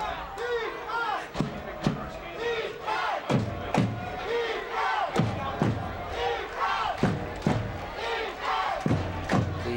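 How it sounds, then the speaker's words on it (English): A high school football crowd at East Brunswick, playing Piscataway, roars and chants from the stands, urging its defense on, with repeated sharp bangs and stomps punctuating the loud, sustained cheering. "East Brunswick crowd urging its team to stop."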